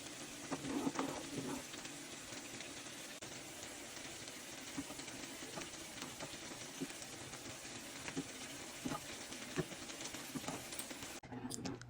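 Milk with cardamom and bay leaf simmering in a pot on a stove, giving a steady, fairly quiet bubbling hiss with small pops throughout and no voices.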